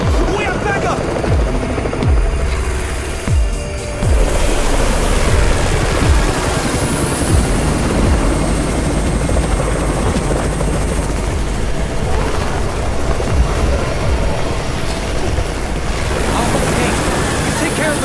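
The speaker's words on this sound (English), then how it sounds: "It's the Raven's chopper! We have backup!" A helicopter arrives in the Undown mobile zombie game, its rotor thudding steadily under wind and surf-like noise, with in-game voices speaking.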